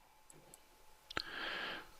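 A single mouse click while navigating Google Drive in a web browser, a sharp near click standing alone in a quiet room, with a faint hiss after it.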